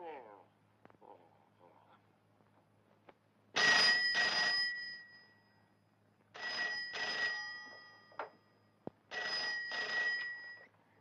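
An old telephone bell rings in three long, loud bursts separated by pauses, close by in an indoor room from an Egyptian comedy film, with a brief voice heard at the start.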